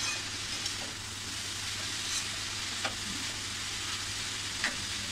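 Grated carrot fries in ghee for halwa, with a steady close sizzle and a low hum underneath. Faint occasional scrapes of stirring come through, and no one speaks.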